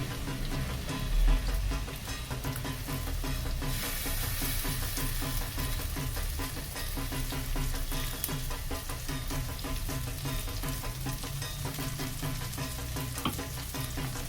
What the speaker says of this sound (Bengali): এই পেস্টটা আমি এর মধ্যে দিয়ে দেব।